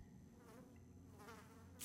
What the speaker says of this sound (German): Hier ist eine Fliege irgendwo. Irgendwo ist eine Fliege.